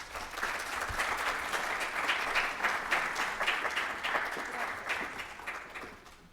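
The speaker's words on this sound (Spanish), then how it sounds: "Un fuerte aplauso, por favor." An audience applauds at a book presentation, steady dense clapping that swells and holds for several seconds before tapering slightly, with no talk over it.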